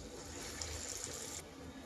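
A hand dipped in water during preparation of urad dal vada, giving a faint, continuous watery rush like running tap water, close and steady, with no talk.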